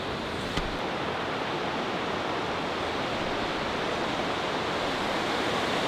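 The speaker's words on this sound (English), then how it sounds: "Here you can see a little bit of the waterfall." Vøringsfossen waterfall in Norway roars as a dense, steady broadband rush, loud and unbroken for several seconds, with a brief knock near the start and no talk.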